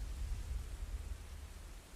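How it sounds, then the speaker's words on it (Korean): Wind and rain on a typhoon night, heard as a steady, faint low rumble of gusting wind under a soft continuous hiss of rainfall, with no voices. "바람소리와 빗소리, 낡은 할머니 집 어딘가에서 들려오는 삐걱거리는 소리"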